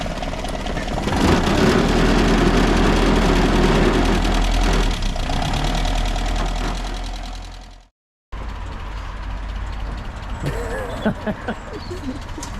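A Land Rover engine runs on choke at idle, a loud, steady rumble close by. The sound cuts out abruptly for a moment, then continues with a few clanks and knocks.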